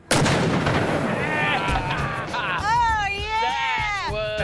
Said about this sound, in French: Le Old Moses a fourni le plus gros boom qu'il puisse supporter